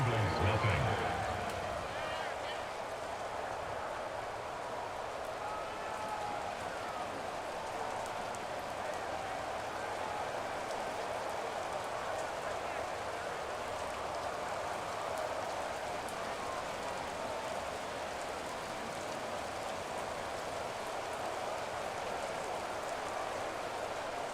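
Steady rain pours over an NFL football game between the Washington Commanders and Cincinnati Bengals, an even, dense patter that never lets up, with a broadcast commentator's voice running beneath it.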